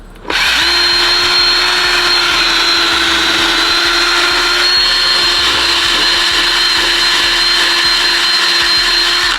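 A power drill starts abruptly and drills into a car bumper, running continuously at a steady high whine, loud and close, with faint rhythmic knocks underneath.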